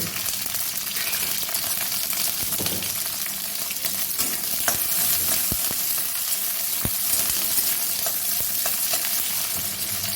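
Garlic and green chillies fry in hot oil in a kadai, a steady close sizzle with occasional stirring clicks and taps and no talking.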